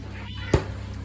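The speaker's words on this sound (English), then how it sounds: "This is my cat Paul." A pet cat at a country home gives one short, close meow in the middle of an otherwise steady, quiet background hum.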